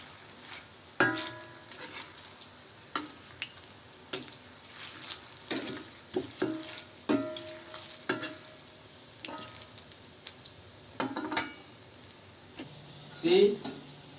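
Sausage fries in a pan on a gas stove with a soft background sizzle. Scattered clicks and scraping knocks of a utensil turning the links recur irregularly.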